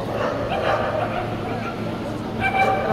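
Dogs at an all-breed show yip and bark, with a puppy among them, under steady crowd chatter and hall noise; some whining tones rise near the end.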